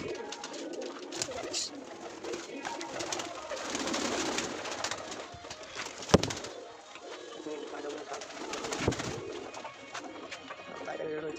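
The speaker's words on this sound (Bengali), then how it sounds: "এখানে সব পায়রাগুলো, কিছু পায়রা ভিতরে ঢুকে গেল, বার করে কিছু পায়রা এখানে রয়েছে।" Pigeons coo near and far around a loft while chicks are fed, soft rolling calls repeating under a low background rumble, with a brief sharp knock partway through.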